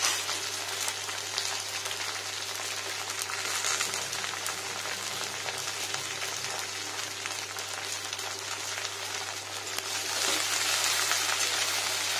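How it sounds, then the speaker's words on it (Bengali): Okra frying in white oil, a steady hiss and crackle of sizzling that continues without pause, rising slightly louder toward the end. "এমনি ফ্রাই করবো।"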